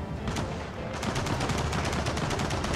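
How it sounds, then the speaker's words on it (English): Gears of War 4 video game combat with dense, continuous rapid gunfire, rattling bursts overlapping steadily throughout the short stretch. "We're getting shot at while we're doing this."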